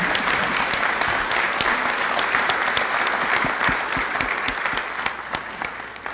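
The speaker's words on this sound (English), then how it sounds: "if you give them a round of applause" A town meeting audience in Nahant breaks into a round of applause: dense, steady clapping from many hands fills the hall for about six seconds and tapers slightly toward the end.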